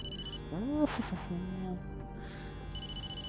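A phone rings in the video game Blair Witch with a repeating electronic ringtone that starts and stops, while someone talks over it.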